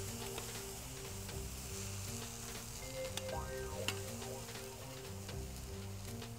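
Aubergine slices sizzling on a hot plancha griddle, a soft continuous crackle and fizz holding steady throughout, with faint background music tones and occasional small pops.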